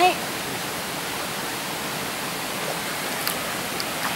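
Water rushes down a nine-tier waterfall, a steady broadband roar that barely changes, with a brief bump at the start and small knocks near the end.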